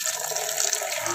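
Murky, yellowish tap water runs steadily from a faucet, a continuous close hiss and splash that fills the whole short moment without any talk.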